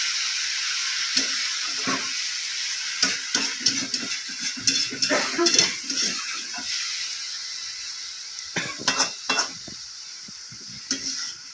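Fenugreek (methi) greens frying in a pan, a steady close hiss and sizzle broken by intermittent scraping stirs and clicks of a utensil against the pan.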